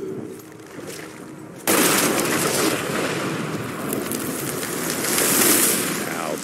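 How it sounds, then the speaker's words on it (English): A loud explosion erupts in the Western action game Evil West, a sudden burst that stays as a dense, roaring rumble and crackle of debris for several seconds, without speech. "Now that is how you shape an explosion"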